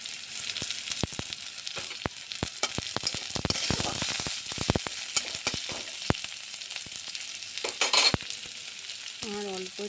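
Onions sizzle in oil with puti fish and chopped green chilli, a continuous hiss overlaid with frequent ladle taps and scraping stirs, close-up and without voices.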